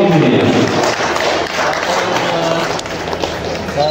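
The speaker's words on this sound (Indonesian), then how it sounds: "kita beri tepuk tangan yang paling mulia" Sustained, dense applause from a hall audience at an Indonesian university ceremony marking the opening of a doctoral program in biomedical sciences, steady and loud throughout.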